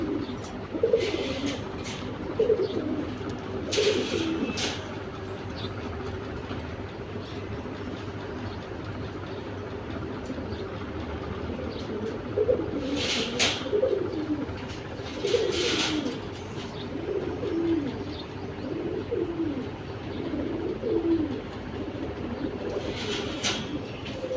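Pigeons coo steadily in low, rolling calls, several birds overlapping, with scattered flutters and clatter and a faint murmur of voices.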